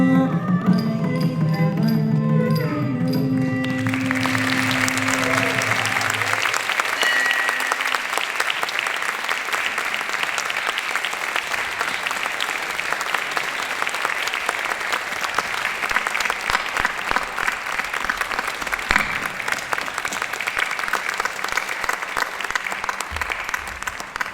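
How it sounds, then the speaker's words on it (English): A large audience at an Indian classical dance debut recital breaks into sustained, loud applause as the closing devotional song and instruments fade out, the dense clapping continuing steadily for over twenty seconds. "Can we get another round of applause for Anjani?"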